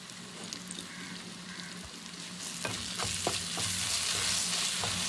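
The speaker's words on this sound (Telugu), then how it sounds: "బాగా ఫ్రై అయ్యేంత వరకు ఫ్రై చేసుకోవాలి." Mutton liver fries with ginger garlic paste in a pan, a continuous hissing sizzle that grows louder, broken by several scraping stirs in the second half.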